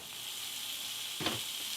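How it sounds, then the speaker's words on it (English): Ground beef, about a pound, sizzles in a preheated stir fry pan on a stove, a steady close frying hiss with a brief louder crackle near the end. "You know it's hot when you hear the sizzle."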